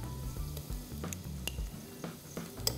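Ginger garlic paste sizzles in a pan of softened onions for a rajma biryani, a steady frying hiss with a few spoon stirs and light pan clinks, close and unbroken.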